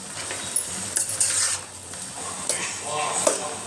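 Spices frying in a pan are stirred with a utensil, giving scraping and clinking strokes over a steady sizzle, close and moderately loud, with a voice speaking over parts of it.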